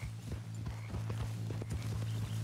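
Steady rhythmic clip-clop of horse hooves at a walking pace in Red Dead Redemption 2, accompanied by a constant low hum.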